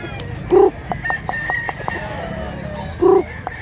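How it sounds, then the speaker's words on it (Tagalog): A three-year-old rooster calls in two short, loud harmonic bursts near the start and end, with fainter chirping bird calls and a low rumble of farmyard background noise in between. "Gwapo kay manok ka mga idol"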